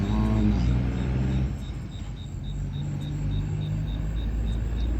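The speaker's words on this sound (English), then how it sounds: "Big trucks come through all day and all night." Big trucks pass on a major highway along Mexico's eastern coast, a heavy low rumble with a droning engine and horn-like tone at the start, fading into steady traffic noise.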